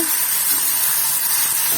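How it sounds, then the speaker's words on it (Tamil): Tomatoes sizzle in a pan while half-sautéed for a mutton liver gravy (eeral thokku), a steady close-up hiss of frying heard alone without talk. "தக்காளி நல்லா பாதி வதங்கிடுச்சு."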